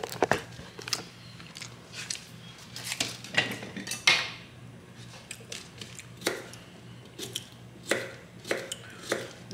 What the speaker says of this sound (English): we are gonna get together a mini cucumber. I'm gonna slice this up.